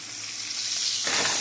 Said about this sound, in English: placing the steak in the pan so you could hear the initial sizzle